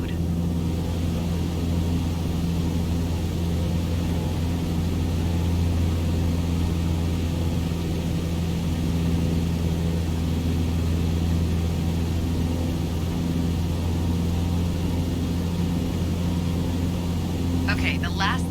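A small airplane's engine drones steadily in Microsoft Flight Simulator, a constant mid-loud propeller hum with layered low tones that barely changes, while someone talks over it.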